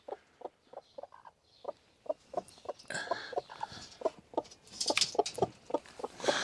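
A broody hen clucks in a steady, repeated rhythm close by, her low clucks growing busier and louder toward the end, with some rustling and a higher squawk.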